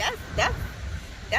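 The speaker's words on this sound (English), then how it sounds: "Oh, that's my dog." A dog barks three times indoors, sharp short yips spaced about half a second to a second apart, close by during a conversation.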